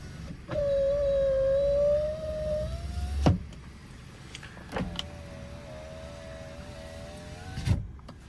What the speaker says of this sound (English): so that was the window operation